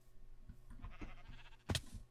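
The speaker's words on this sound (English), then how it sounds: "sheep in a tree" A sheep bleats in the Minecraft video game, one short, loud game bleat near the end after a few soft thuds, with no talk.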